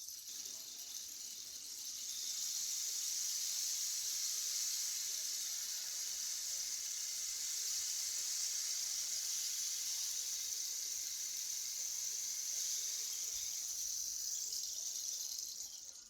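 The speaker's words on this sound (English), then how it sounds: "This is my handy dandy rain stick." A rain stick pouring a continuous soft hiss of trickling pellets, steady and gentle for a long stretch, close up with no talking.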